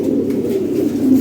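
Fancy pigeons at a delivery give a steady, low cooing murmur that runs without a break. It sounds close and fairly loud, and no one speaks.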